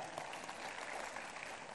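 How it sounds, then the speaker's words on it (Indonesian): A church congregation applauds during a sermon, a dense, steady patter of many hands clapping at moderate distance, unbroken for the whole moment with no voices standing out. "Beri tepuk tangan untuk Tuhan kita."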